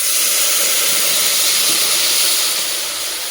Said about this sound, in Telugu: మనం ఇప్పుడు పాలు యాడ్ చేస్తున్నాం.